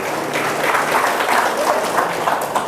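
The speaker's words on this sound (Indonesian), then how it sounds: "Bapak Didi Soekardi, tepuk tangan." Audience applause at an Indonesian political gathering, a short, steady burst of clapping from a crowd.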